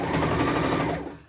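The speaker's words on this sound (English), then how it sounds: "I like to do it on an overlocker because I'm a little bit queen of speed." An overlocker stitches a jersey headband in a fast, steady mechanical whir of rapid needle strokes that runs close and continuous for about a second before trailing off.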